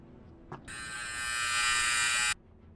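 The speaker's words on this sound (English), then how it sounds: "So that was my dryer." A dryer runs close by for under two seconds with a steady, loud whooshing whir that switches on and cuts off abruptly, with no talk over it.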